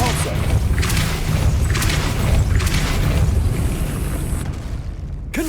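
Depulso spell cast in Hogwarts Legacy, a loud dense burst of magical force with booming, rumbling energy and repeated whooshing pulses that fade out abruptly near the end.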